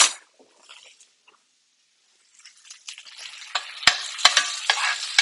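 A steak basted with melted butter in a pan: near silence at first, then sizzling builds and spatters, punctuated by two sharp spoon clicks against the pan.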